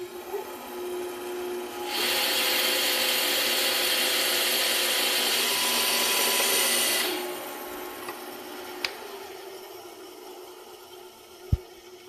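A power saw with a laser guide cuts through a wooden board. A loud, steady buzzing rasp lasts about five seconds and then stops, leaving quieter machine hum and a couple of sharp knocks.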